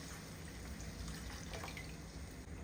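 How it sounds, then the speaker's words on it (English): Water runs steadily from a tap or jug into a pot holding about 250 grams of bone-in chicken for soup, a continuous close pouring splash. "Add 1 liter water."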